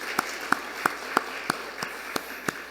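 Church congregation clapping together during a Sunday service, heard as eight sharp, evenly spaced claps in a steady unison rhythm, moderately close and with no talk over them.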